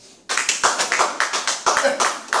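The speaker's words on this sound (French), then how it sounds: "Acclamons Jésus" A church congregation claps together in a brisk, even rhythm, a dozen or so sharp beats, close and lively.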